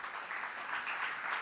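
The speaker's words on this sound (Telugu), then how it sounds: "చప్పట్లు కొడదామా గట్టిగా?" A church congregation claps loudly together in a brief, dense burst of applause that fills the room evenly.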